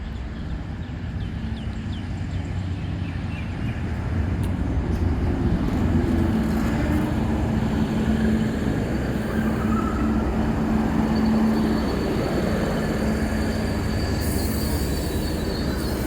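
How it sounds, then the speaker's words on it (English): A Hunter Railcar two-car diesel train rolls steadily into Telara station's single side platform with a rumbling, continuous rail noise and a faint squeal of wheels, no voices. "We have a Hunter Railcar arriving alongside platform 1"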